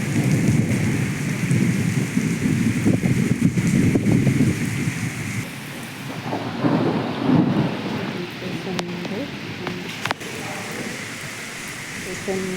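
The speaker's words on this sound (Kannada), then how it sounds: "ನೋಡಿ ಮಳೆ ನೋಡಿ" Heavy rain pouring down steadily during a thunderstorm in Chintamani near the station entrance gate, a loud continuous wash with rumbles of thunder and occasional voices in the background.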